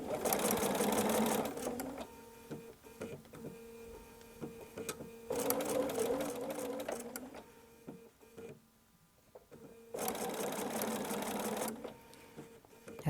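A sewing machine stitches through melon block quilt fabric in three steady, rapid bursts, each separated by short pauses while the fabric is repositioned, the motor whirring close and clear.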